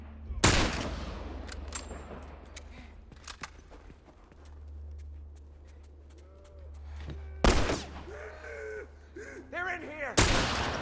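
Gunfire in The Last of Us at the lake house on Grounded difficulty: three loud, sharp shots several seconds apart, with quieter clatter and brief faint voices between them.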